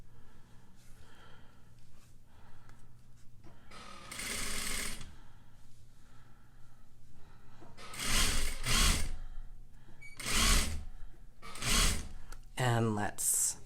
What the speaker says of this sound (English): Come at it from an angle.